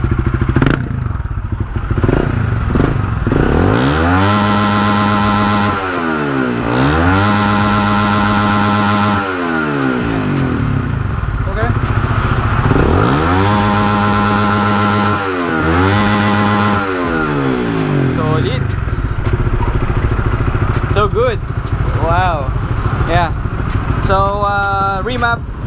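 A Honda Supra GTR150 motorcycle engine with a remapped ECU revs hard several times, near and loud, climbing in pitch and falling back in repeated sweeps over a steady idle, with people talking faintly in the background.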